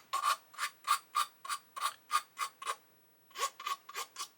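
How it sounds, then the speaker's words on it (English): Plastic model kit wing end pods are sanded by hand in short, regular rasping strokes, about a dozen close scrapes with a brief pause near the end, quiet and with no talking. "We've also got on the back of this one, it's flat, so we'll get that one nicely sanded."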